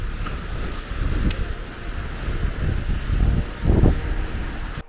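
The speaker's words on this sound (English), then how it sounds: "It's been super windy the whole time we've been here." Strong wind blows across a lakeside beach campground, roaring in low gusts that buffet the microphone, with rising surges and a continuous rushing backdrop and no voices.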